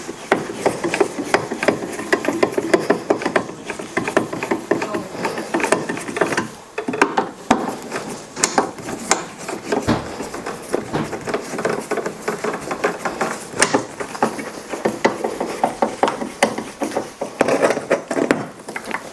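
A screwdriver turns the mounting screws of a light switch into the wall box, giving continuous close scraping and rubbing strokes with occasional sharp knocks and clicks throughout.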